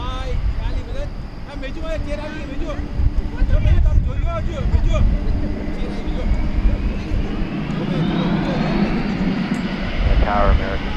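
A fixed-wing airplane roars past on the runway at DFW Airport at night, a steady broad engine rumble swelling and easing over wind, with voices talking throughout.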